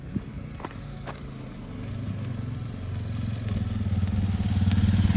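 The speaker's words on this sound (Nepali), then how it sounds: "यो चाइनाको मोटरसाइकल हो" A Chinese-made motorcycle approaches on a road, its engine note building from a low putter to a louder, rhythmic thrum as it draws near, with a few faint clicks early on.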